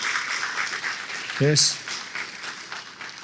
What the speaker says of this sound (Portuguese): Dê um forte aplauso para Luciano e para seus irmãos